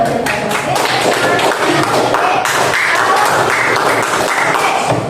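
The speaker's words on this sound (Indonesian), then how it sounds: "Oke, tepuk tangan dulu." A group claps hands continuously in a steady, fairly loud patter of overlapping claps in a classroom setting.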